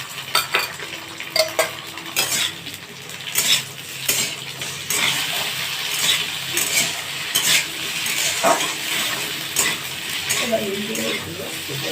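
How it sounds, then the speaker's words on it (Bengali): Ginger-cumin paste with a dried chili going into a hot pan for dhokar dalna, stirred with a metal spoon: sizzling and scraping, clinks against the pan, close and fairly loud throughout. "এবার আদা জিরে বাটাটা আমি দিয়ে দিচ্ছি, আর একটা শুকনো লঙ্কা আছে এর মধ্যে।"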